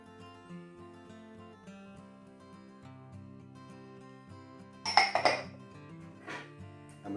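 Utensils clink against a bowl as gazpacho ingredients are stirred together with red wine vinegar and extra virgin olive oil, a soft scraping under a steady background hum with a brief cluster of louder metallic clinks near the end.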